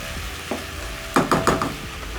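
Pork and tomatoes for a pork wet fry sizzle in a pan under a steady frying hiss, broken by a quick run of four or five stirring scrapes, near and fairly loud with no talk.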